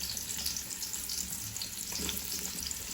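Onions sizzling in a pan as they fry for biryani, a steady, close crackling hiss with light stirring scrapes and no voices.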